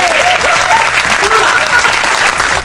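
Studio audience applause on a Portuguese-language retrocomputing podcast, loud and close, a dense continuous clatter of many hands with voices murmuring underneath.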